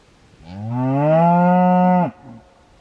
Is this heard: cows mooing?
yes